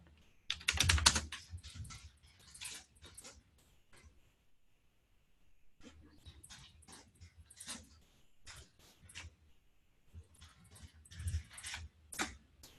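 Typing on a computer keyboard in bursts of quick, close keystroke clicks, with a pause of a couple of seconds midway before the tapping resumes at an uneven rhythm.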